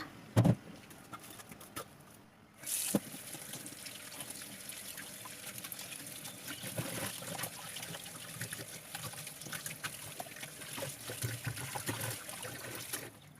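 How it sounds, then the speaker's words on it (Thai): Vegetables being washed under running water, a steady, fairly faint stream of trickling and splashing that goes on throughout, with a brief clunk near the start. "เราก็จะนำผักต่างๆของเรานะคะ มาล้างทำความสะอาดไว้เหมือนทุก ๆ ครั้งนะคะ"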